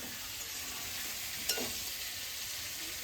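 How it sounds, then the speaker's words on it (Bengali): Mixed vegetables with pumpkin greens, beans, cauliflower, potato and prawns fry in a pan, a soft continuous sizzle with a brief stirring clatter midway, faint and without talk. "কুমড়ো শাক রান্না করছি হ্যাঁ।"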